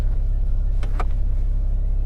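Glove box lid of a Mercedes-Benz CLA 35 AMG swinging shut with a damped motion, a soft brief thump followed by a second muted click, close by and quiet over steady cabin hum.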